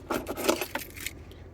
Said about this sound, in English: 2 keys, both original Nissan Smart keys.